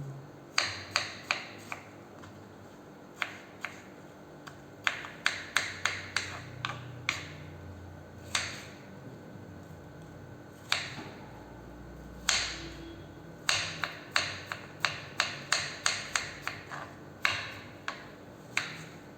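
A knife chopping watermelon into small pieces on a board, sharp close taps in irregular quick clusters with short gaps, no talking.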